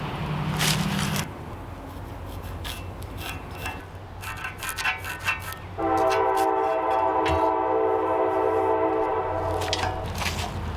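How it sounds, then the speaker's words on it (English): A train rumbles past with a loud, sustained horn blast in the second half, steady rolling noise and metallic scraping throughout. "Train's coming."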